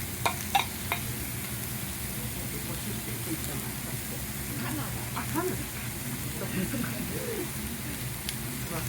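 Squid okonomiyaki, Japanese savory pancake, sizzles steadily on a griddle in a busy setting, with faint scraping clicks and background chatter under the constant frying hiss.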